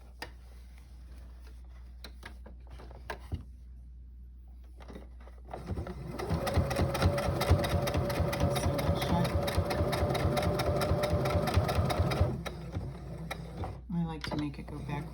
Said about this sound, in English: first you want to sew the whole thing shut